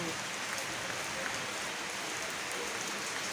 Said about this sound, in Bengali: কি ফাইন বৃষ্টি এই যে পড়তেছে